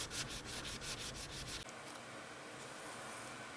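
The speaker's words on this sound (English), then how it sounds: "I'm sanding it down to try to fix that" Steady abrasive rubbing on a freshly painted car fender spot, with a rhythmic back-and-forth scrape at first, then a continuous softer hiss of sanding, close up.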